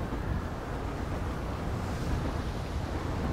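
Loud, steady blizzard wind roars through a snowy city in the video game GTA V with the LSPDFR police mod, a dense rumbling gust noise that fills the whole stretch without pause.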